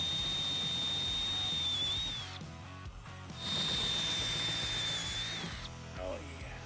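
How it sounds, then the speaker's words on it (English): A power drill bores holes into the body of a new van, its motor whining in two sustained bursts with a short pause between, close and fairly loud over a busy background. "We're gonna start drilling holes."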